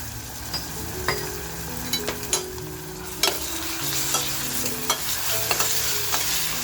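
Browned onions fry in a pan with crushed ginger, garlic, coriander and green chili, a steady close sizzle broken by frequent clinking spoon stirs against the pan, with no one talking.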